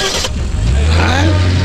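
A car engine revs up and pulls away loudly and close by, with a rising engine drone under brief talk during a comedy scene.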